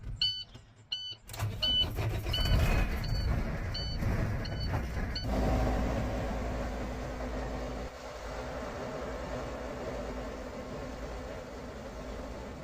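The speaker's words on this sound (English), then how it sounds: "we're going to need to start the truck back up to get a fully charged system" A truck's engine cranks over with a few rapid beeps and clicks, then starts and settles into a steady, low diesel idle that runs on evenly, close by, with no talking.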